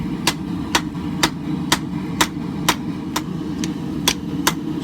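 A hand hammer strikes a steel Bowie knife blade on an anvil about ten times in a steady, evenly spaced rhythm, each blow a sharp, close metallic ring.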